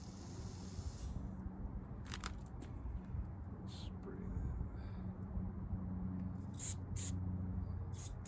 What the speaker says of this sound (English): carb cleaner spraying out of the bowl nut